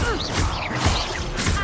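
A Bombardo spell explosion in Hogwarts Legacy lands as sharp smashing cracks with whooshing swishes, several loud hits spread across a short burst, no voices over it.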